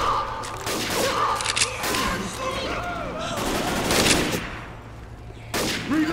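Rapid gunfire in Left 4 Dead 2 during the Dead Center campaign, dense bursts of shots with in-game voices speaking between and over them.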